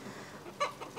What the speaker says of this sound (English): So currently we have three roosters.